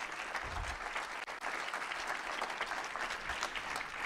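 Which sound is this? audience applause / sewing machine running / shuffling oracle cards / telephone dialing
audience applause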